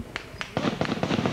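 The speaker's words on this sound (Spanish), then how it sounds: "con balazos cruzando hacia todos los sectores" Gunfire during the December 1990 Carapintada military uprising in Argentina, with a few sharp shots followed by a rapid volley of cracks, close and loud, with faint voices underneath.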